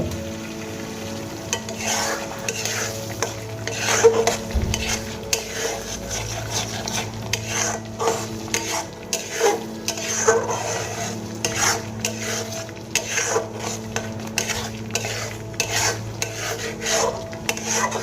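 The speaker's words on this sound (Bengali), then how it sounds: "এবার আমি এর মধ্যে দিয়ে দেব 2 চামচ জল ঝরানো টক দই" Steady stirring and scraping of a spoon through strained, whisked sour yogurt mixed into a sizzling spice paste in a pan for Bengali katla fish kalia, with clinking utensil hits over a continuous low fry, no talk.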